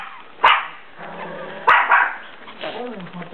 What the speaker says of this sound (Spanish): es un perro, tendrá que ladrar